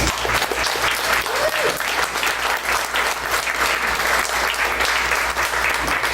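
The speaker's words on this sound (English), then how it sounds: "And so one more round of applause for them, please." A room full of attendees at the H.P. Lovecraft Film Festival and CthulhuCon prayer breakfast applauds loudly and continuously, thick even clapping throughout with a faint tone and murmur beneath.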